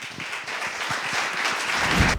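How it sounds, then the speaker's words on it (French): Audience applauding as panelists of a round table with deputies and healthcare workers come onto the stage, a steady, fairly distant wash of clapping across the whole stretch with no voices over it. "vous pouvez les applaudir"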